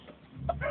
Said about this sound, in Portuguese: meus franguinhos aí de 7 meses